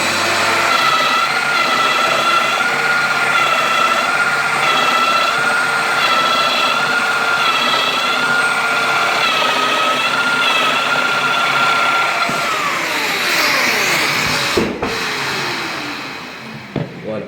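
A Festool Domino XL joining machine runs steadily against a wooden workpiece, a loud continuous motor whine with harmonic tones lasting about twelve seconds before it spins down and winds to a stop.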